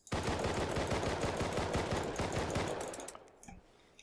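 Rapid automatic gunfire during recoil practice in the video game Rust: a steady stream of close, loud shots for about three seconds, then stopping abruptly, followed by a few faint trailing sounds.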